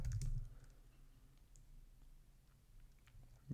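Keys tapped on a computer keyboard while entering a Truffle compile command, a quick cluster of clicks up front followed by sparse, faint taps over a low background hum.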